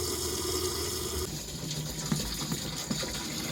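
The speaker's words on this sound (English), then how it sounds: "I fill my 3 25 litre containers too." Tap water runs steadily through a hose secured with wood and a spanner, filling 25 litre containers by a narrowboat, a soft continuous gush with faint clunks and splashes toward the end.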